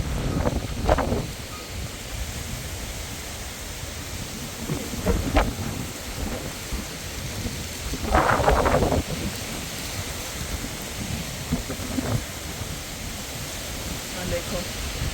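Heavy rain falls steadily during a thunderstorm, with several rumbling thunder bursts rising over the constant downpour, the strongest near the middle.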